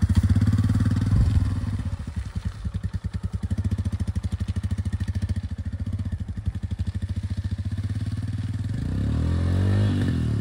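A Royal Enfield Himalayan motorcycle is ridden through sticky clay on a French trail, its single-cylinder engine chugging steadily with rapid pulses, clattering and scraping close by, revving harder toward the end.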